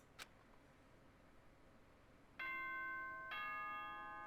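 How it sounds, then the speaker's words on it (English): A two-tone doorbell chime rings out twice in the game Danganronpa: Trigger Happy Havoc, clear and sustained, each ding-dong ringing on after a short tick near the start. "Ding dong, bing bong"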